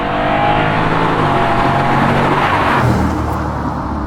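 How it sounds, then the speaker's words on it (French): A replica BMW M3 GTS Clubsport with an American V8 engine gives a loud, steady, NASCAR-like roar that holds close and continuous throughout, with no talking over it. "Tu sais qu'elle fait presque un bruit de NASCAR?"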